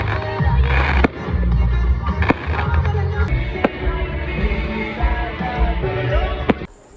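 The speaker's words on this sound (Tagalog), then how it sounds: "after ng kantahan ay nag-fireworks display na nga po" Fireworks display after a concert crackles and booms continuously, sharp bangs and pops bursting over a dense rumbling roar.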